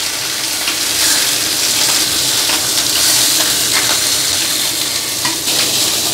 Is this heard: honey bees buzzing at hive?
no